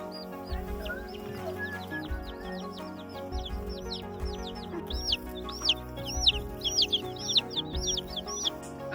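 Chicks cheep and chirp under a heater in a farm barn, a busy stream of high repeated peeps over soft low clucking, close and continuous with no talking.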